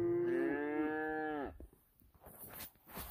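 A single loud, close cow moo from cattle in a snowy farm lot, a long harmonic bellow lasting about a second and a half that ends abruptly, followed by quieter outdoor rustling and scattered noise.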